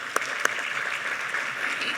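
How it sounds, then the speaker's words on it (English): An audience at a keynote speech on indigenous health claps steadily throughout, a dense, even wash of applause with a couple of sharper claps near the start. "Can we give you a great big applause for that too?"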